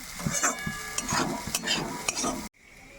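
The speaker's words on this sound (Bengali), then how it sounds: "এত সুন্দর ভাজা হচ্ছে, তেল বেরিয়েছে কত সুন্দর চিংড়ি মাছের। অল্প আজে ভাজা করছি।" Prawns frying in oil crackle and sizzle up close, with repeated scrapes and taps of a utensil stirring the pan, then the sound drops abruptly to a quiet background near the end.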